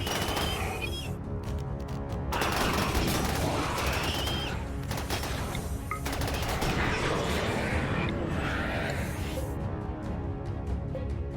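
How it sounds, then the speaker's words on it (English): Scattered gunfire in the colony game RimWorld, repeated shots and bursts popping over a steady background with faint bird-like chirps, moderately loud and ongoing throughout. "Oh, getting shot at."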